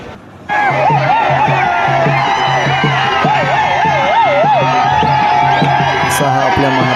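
A crowd chatters at a bullock cart race in Maharashtra. Steady outdoor babble is dominated by a close, prominent voice, with wavering tones and scattered shouts rising over the general hubbub.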